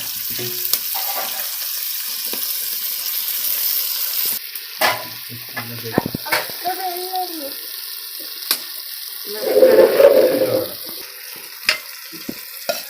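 Tomato and wild greens (ulmera) curry frying in a pan while being stirred, a steady sizzle with scraping stirs and a brief louder burst, outdoors with faint background noise.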